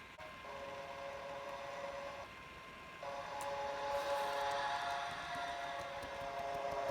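Train running in the video game Stepford County Railway, a steady rolling rumble with bright tonal whine that steps in pitch and grows slightly louder partway through, continuous and fairly close with no talking.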